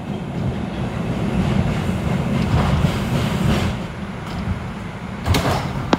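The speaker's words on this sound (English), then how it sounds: "This is a Crown Heights-bound 5 train." An R142 subway train on New York's 5 line running between stations: a steady rolling rumble with rail clatter from inside the car, and a sharp clunk near the end.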